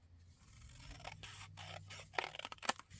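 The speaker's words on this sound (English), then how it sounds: "So I'm just going to trim it down just a little bit." Scissors trimming a paper card for a junk journal, a few close snips and crisp cutting scrapes that grow louder and more clustered toward the end, with no talking.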